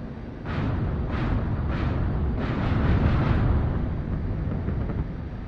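A deep, rumbling explosion of an armored vehicle in the flight-combat video game DCS roars and sustains, with a heavy low-end boom and repeated surging blasts rolling over several seconds.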